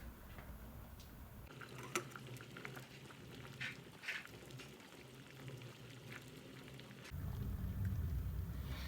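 A covered pot of shrimp and fish broth boiling, with soft bubbling and faint liquid pops that are quiet and close, and a louder low rumble near the end.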